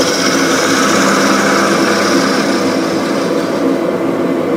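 Wood lathe spinning while a tool shapes the top of a box knob, a steady, loud, continuous whirring hum with bright cutting hiss, unbroken throughout.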